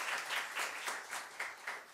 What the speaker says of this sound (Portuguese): Uma salva de palmas, muito bem-vindo.